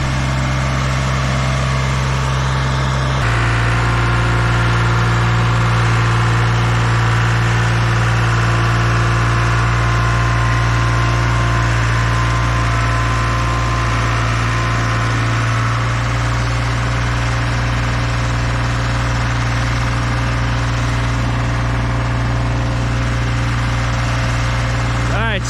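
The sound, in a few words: dual drum vibratory roller engine idling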